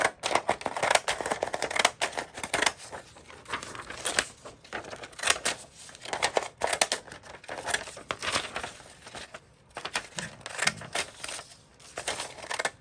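Scissors snipping paper for an art journal page, a continuous run of close, crisp cuts and rustling paper with irregular rhythm and no talking.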